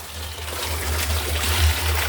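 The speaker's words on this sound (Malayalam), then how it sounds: "വെള്ളം നിറച്ചോണ്ടിരിക്കുകയാണ്" Water running into a container, a steady close trickle and rush with a low rumble underneath, continuous throughout without talk.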